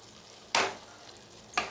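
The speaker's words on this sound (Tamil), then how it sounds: "எல்லாத்தையும் சேர்த்து நல்லா கலந்துக்க வேண்டியது தான்" Masala for chicken sukka being stirred in a hot pan, with two short scraping, sizzling strokes of the spoon, close and fairly loud, separated by a quieter stretch of low frying hiss.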